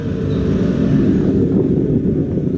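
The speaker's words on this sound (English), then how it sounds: "The wind out here in the breeze." Cold winter wind buffets across an open cruise ship deck, a loud, steady low rumble of wind on the microphone that continues without a break. No voices are heard.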